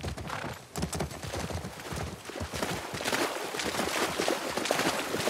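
Horse hooves clip-clop steadily in The Last of Us Part II, a dense, continuous patter of hoofbeats over outdoor game ambience.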